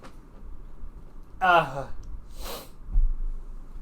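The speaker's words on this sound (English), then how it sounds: "I'm gonna sneeze" A single sharp sneeze bursts out, followed by a brief breathy exhale, against a quiet room background.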